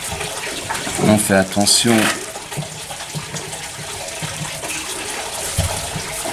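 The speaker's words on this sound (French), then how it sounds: "On va arroser." Water pours from a watering can onto a raspberry cutting in potting soil, a close gushing splash under someone speaking French, then softer trickling as she keeps talking.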